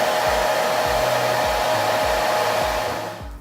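A hair dryer fitted with a diffuser drying curly hair blows with a constant loud whoosh and an even hum, close up, with a faint rhythmic pulsing underneath before it tapers slightly at the end.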